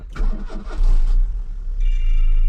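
A Cavalier Diplomat car engine cranks over briefly on a new, larger battery, then catches and settles into a steady, quiet idle, heard up close.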